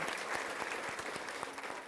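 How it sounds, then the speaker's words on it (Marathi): A church congregation clapping together in thanks during a Christian prayer service, a dense, rhythmic burst of many hands heard up close for a couple of seconds, with faint voices mixed in. "टाळ्या वाजून प्रभूला धन्यवाद देऊया."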